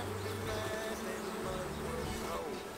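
A dense, steady drone of honey bees buzzing around an open hive, close and continuous throughout the short stretch.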